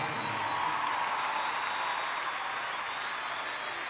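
A crowd at a rock concert in La Plata, Buenos Aires applauds and cheers in a loud, dense, sustained wash that fills the whole stretch.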